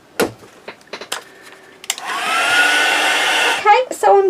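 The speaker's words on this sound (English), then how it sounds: "I'm just going to put my heat gun on and just dry off again" A heat gun blasts hot air to dry ink on a mixed media craft piece, a steady loud roar running about a second and a half after several sharp clicks and knocks, then cutting off into short bumps.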